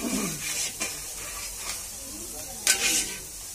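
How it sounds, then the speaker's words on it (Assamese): Potatoes frying with onions in a pan, a steady sizzle with occasional stirring scrapes and one sharper hiss near the end, close and moderately loud. "আলুখিনি পিঁয়াজৰ লগত সিজোতে পিঁয়াজ দি যাব সময় লাগে নহয়"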